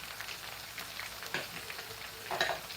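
Chopped tinned tomato is stirred in a pan, giving a soft, steady sizzle with wet crackles and a few spoon scrapes close by, with no talking.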